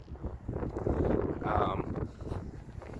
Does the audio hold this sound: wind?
yes